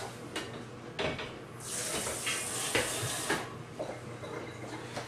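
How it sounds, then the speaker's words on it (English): Water is splashed onto a knife sharpening stone, a short hissing rush in the middle of quiet handling knocks and taps, close and fairly soft. "So I just put a little bit of water on there."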